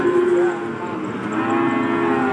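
Cattle at a busy livestock market give one drawn-out, loud moo, with low crowd murmur around it.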